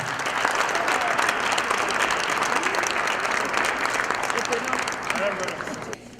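A large audience applauds at a cultural event in a continuous, dense wash of clapping that holds steady for about six seconds and then fades out, with some voices mixed in.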